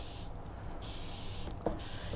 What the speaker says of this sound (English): you want to spray lightly over the whole shoe